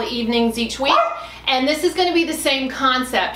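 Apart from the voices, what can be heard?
dog barking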